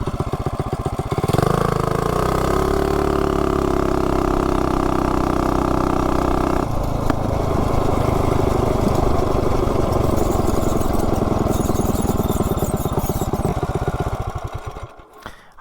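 A modified vehicle engine revs up, then launches hard from a standstill to 30 mph, its loud buzzing drone climbing steadily through the gears before fading as it eases off at the end.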